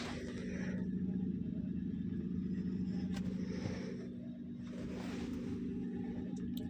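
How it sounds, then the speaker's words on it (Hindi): A car that has sat unwashed for about ten days starts after its first self-start attempt, then idles with a steady, close, low rumbling drone that dips briefly before settling again. "गाड़ी होगी स्टार्ट"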